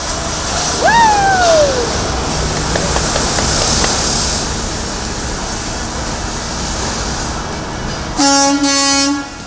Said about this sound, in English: Kelly's new Peterbilt roars to life